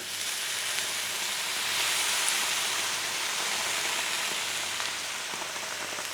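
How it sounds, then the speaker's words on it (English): Steady sizzling hiss as vermouth is splashed into a hot pan of cooking onions, a continuous crackling wash of sound with no talk. "we're gonna give the pan a splash of vermouth"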